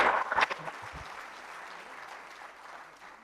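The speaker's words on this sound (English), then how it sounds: "Can we have a round of applause for him?" An audience applauds at the inaugural function of a urology surgery conference in Srinagar, with a brief louder burst of claps that settles into steady, moderately distant clapping and fades slightly, with no talk over it.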